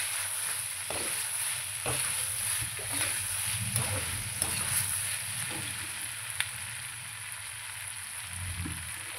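Chilli chicken in a hot pan sizzles steadily and fairly loudly after a splash of vinegar, with repeated spatula scrapes and taps punctuating the frying.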